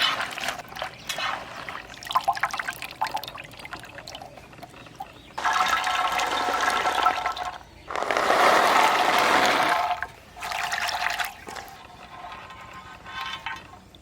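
Water is fetched in a village home, with trickling and pouring that comes in several sustained bursts separated by short pauses.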